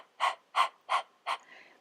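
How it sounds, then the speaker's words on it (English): Four quick, evenly spaced forceful exhales through the nose, close and clear, pump out in a steady rhythm during a breathing exercise, followed by a softer trailing breath. "you will breathe out the nose, kind of like the sound of a panting of a dog"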